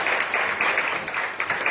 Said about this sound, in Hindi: लेकिन हम ताली बजा रहे हैं पास्टर जी